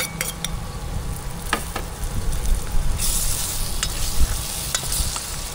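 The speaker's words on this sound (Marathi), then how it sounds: "आता मी यात घालते टमॅटो" Tomatoes dropped into a pan of frying spices for a mushroom bhaji, a loud close sizzle that swells as they go in, with scattered clinks and stirring.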